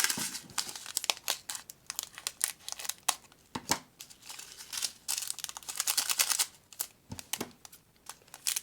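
A plastic baggie crinkles and rustles close up while paint colors are packed, with dense irregular bursts of crackling that continue throughout.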